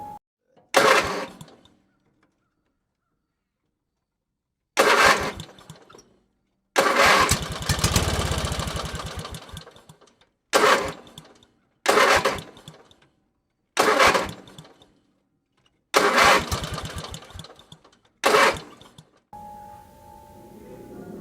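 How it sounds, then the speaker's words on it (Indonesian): A motorcycle's electric starter cranking repeatedly without firing: about eight separate bursts of whirring cranking, each one to two seconds long, separated by short silences, loud and close, with no speech. "Bunyi ketika kita nyetater motor gitu."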